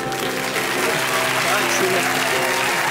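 Studio audience applause at a comedy improv show, steady dense clapping that fills the clip, close and loud, with no talk over it.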